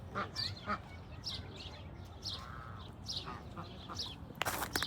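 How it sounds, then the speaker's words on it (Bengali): Ducks of several breeds at a zoo in Kuwait quack and honk in short repeated calls at moderate distance, with faint background murmur and a brief clatter near the end. "এখানে আবার আরেক জাতের হাঁস আছে"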